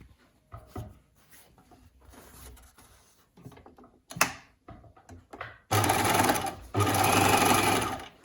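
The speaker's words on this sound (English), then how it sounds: "I would then overlock these edges down and edge stitch the top for extra security." A sewing machine overlocks the edges of a V-neck bound garment and then edge stitches the top, running in two loud, steady bursts near the end after quieter handling noises.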